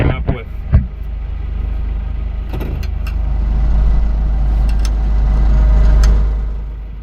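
A modified farm tractor engine runs close by, with a steady low rumble that swells gradually after a few sharp knocks at the start.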